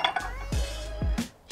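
An aluminium bicycle crankset is set down on a scale, giving a few hard metallic clunks with short ringing tails, close and fairly loud with quiet gaps between.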